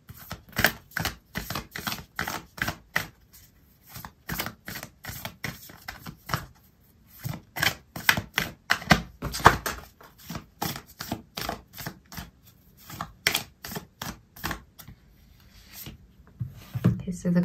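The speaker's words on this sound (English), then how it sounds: "I'm going to pull out an oracle card for you" Oracle cards being shuffled during a tarot reading, a long run of rapid papery flicks and riffles in uneven bursts, close and fairly loud, with no talking.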